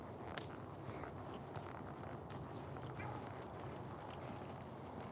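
A mustang mare's hooves lope along an outdoor trail, with faint, irregular thudding footfalls under a broad wash of background noise.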